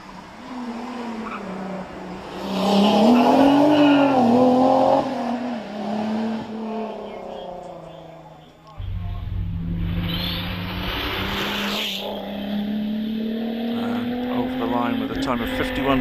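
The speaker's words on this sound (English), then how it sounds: "We see Tim Jeffrey in that Alpine Renault GTA Turbo 2:41." Alpine Renault GTA Turbo racing up the Prescott hillclimb course: a loud engine note rising and falling through gear changes under steady commentary, with a sudden harsh burst of noise midway as the car passes close.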